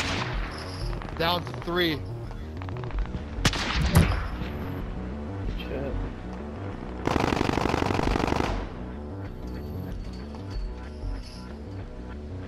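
Automatic gunfire in Call of Duty: Modern Warfare, with scattered shots, a sharp nearby crack and a sustained loud burst of rapid fire, set against game music and radio-style voices, with players talking.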